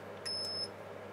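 A single short, high electronic beep from a Curious C-Beeper continuity tester, clean and steady, sounding briefly over a quiet low hum.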